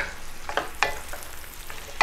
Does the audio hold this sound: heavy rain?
no